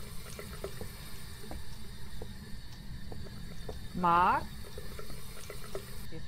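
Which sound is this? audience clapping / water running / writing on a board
water running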